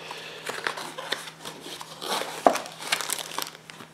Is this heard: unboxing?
yes